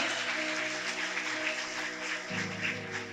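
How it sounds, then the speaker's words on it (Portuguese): A congregation at a Catholic prayer group meeting claps together in a steady, dense round of applause that fills the room throughout, with a faint musical tone sustained underneath. "Aplauda esse irmão que está do seu lado"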